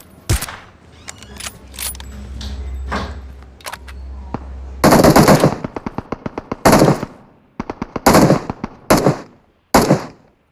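Gunfire in a battle royale video game: scattered single shots, then loud rapid automatic bursts in several close, clipped volleys separated by brief pauses, with a rising hum early on.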